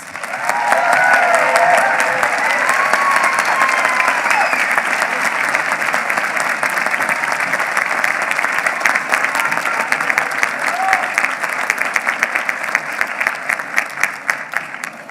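A large commencement audience at a law school graduation applauds graduating students, a dense, steady wash of clapping that holds loud and even for about fifteen seconds, with a few scattered cheers near the start.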